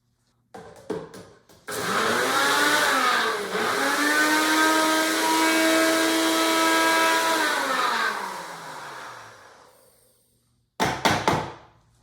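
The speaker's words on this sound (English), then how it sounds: "it's not entirely coming together in the NutriBullet" A NutriBullet blender mincing basil with dry ingredients runs as a steady, loud motor whine for about seven seconds, pitch dipping and rising, after brief clattering starts and followed by short bursts.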